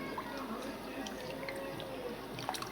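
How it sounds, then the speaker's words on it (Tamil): Water poured into potato chutney simmering in a pan, a soft trickle with light drips over a low cooking murmur, faint and close. "உங்களுக்கு தேவையான அளவு தண்ணி ஊற்றிக்கோங்க."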